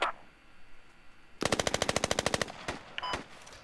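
Machine gun firing in Squad: after a quiet stretch comes one tight burst of roughly a dozen evenly spaced, loud, close shots, then a few scattered single cracks.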